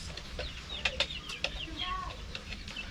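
Chickens cluck in a small coop on a mini farm, a few sharp clucks and squawks over a low rumbling background, close by.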